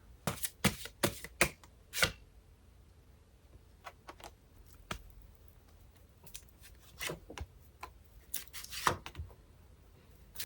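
Oracle advice cards being shuffled and drawn, a run of sharp riffling snaps and flicks in bursts near the start and again toward the end, close and crisp with quiet pauses between.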